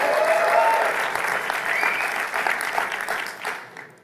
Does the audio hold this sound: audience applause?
yes